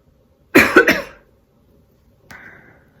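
A single person's cough bursts out in two or three quick, close hacks, followed after a pause by a short, softer throat sound, all in an otherwise quiet room.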